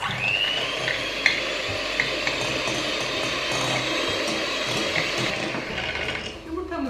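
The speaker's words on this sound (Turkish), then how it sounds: "Yumurtalarımı öncelikle tek başına çırpıyorum. Biraz gürültü yapacağız." An electric mixer whisks eggs for a sugar-free cake, a steady loud mechanical whir that runs unbroken for several seconds before winding down at the end.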